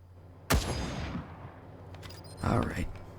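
Gunfire aimed at a Scorpatron robot in the game Wasteland 3: a sharp, loud blast with a long decaying tail, followed about two seconds later by a second, slightly softer burst, with low game ambience between.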